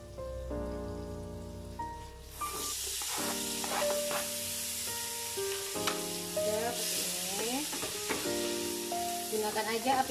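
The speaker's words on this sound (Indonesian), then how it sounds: "Selanjutnya kita tumis nih bawang bombaynya." Onion sautés in a frying pan over a low flame, producing a steady, dense sizzle that starts suddenly and continues with faint background music.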